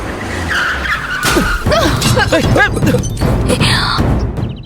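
A car skids with tires squealing in a Tamil television serial scene, loud wavering screeches layered over a rushing engine and commotion, with voices mixed in.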